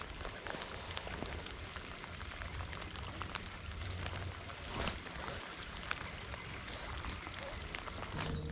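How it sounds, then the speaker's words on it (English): Rain falls steadily on and around a fishing boat on the water, a dense hiss with scattered nearby drop taps and a few louder splashes, quiet and continuous throughout. "It's actually raining pretty good."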